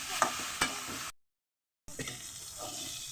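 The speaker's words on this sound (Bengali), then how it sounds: "আমি ভালো করে পেঁয়াজ দিয়ে আদা দিয়ে বেগুনটাকে ভেজে নিলাম" Eggplant frying in a pan with onion, ginger and green chili, giving a steady close sizzle with stirring scrapes and a short silent gap midway.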